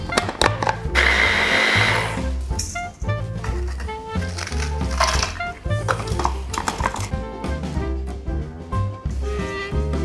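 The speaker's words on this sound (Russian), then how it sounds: "Для этого используем блендер." A kitchen blender crushes biscuits for a chocolate sweet sausage, its motor whirring loudly in close, grinding bursts with brief pauses and small clattering jolts between runs.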